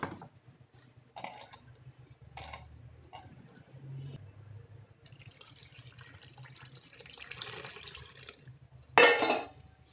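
Water poured onto freshly churned butter separating from buttermilk to wash it, a soft splashing and trickling in a bowl with scattered handling noises, ending in a brief louder burst of pouring.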